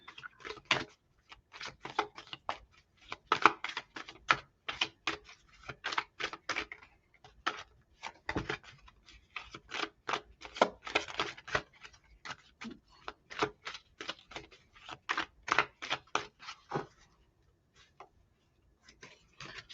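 Tarot cards being shuffled by hand close up: quick bursts of crisp flicking and riffling in an irregular rhythm with short pauses, quiet and alone.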